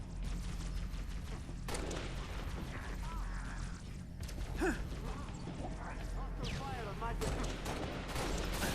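Rapid gunfire in the Halo: Reach campaign mission The Package, with dense bursts of shots running nearly continuously over a low rumble and fading in and out through the clip.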